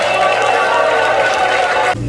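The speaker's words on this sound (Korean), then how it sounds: "더욱더 큰 함성과 우리 박수로 우리 목사님 박수" A church audience at a pastors' seminar cheers and applauds a pastor, a steady loud wash of crowd noise and clapping that continues without a break and then cuts off abruptly.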